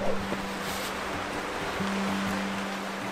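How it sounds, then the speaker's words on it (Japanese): Sea waves wash onto a beach on Japan's Chita Peninsula in cold January weather, a steady, close hiss of surf with a faint low hum underneath and no voices. "知多半島の海です"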